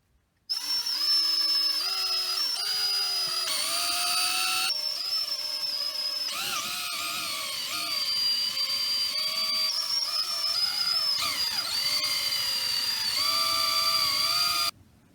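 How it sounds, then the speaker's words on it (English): A power drill whines steadily for a long stretch, drilling holes in a wood handle, its pitch dipping and rising as it bites into the wood. "I'm going to drill a hole right on there"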